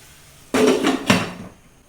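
A lid set over a frying pan of sliced onions on the stove, two quick metallic clanks about half a second apart followed by a brief ringing sizzle, close and clear with no speech.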